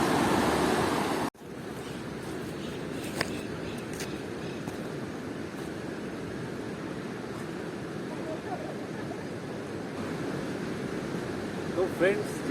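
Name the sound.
rushing water at Beas and Parvati river confluence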